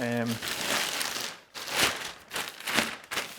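Landscape liner fabric crinkles and rustles in uneven bursts as it is pressed and tucked into the corners of a wooden raised planter box, fairly close and loud.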